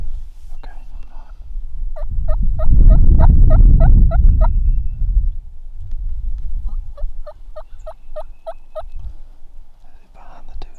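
Wild turkeys gobble in two clear rapid bursts of rhythmic notes, each a run of about eight quick pulses, moderately distant over rustling and a low rumble from nearby movement.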